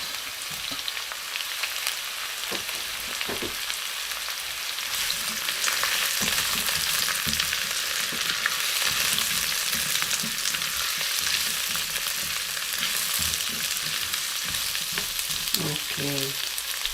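Celery, onion and carrot fry in a hot pan with a dense, continuous sizzle and crackle, close and loud, with occasional stirring scrapes and no voices.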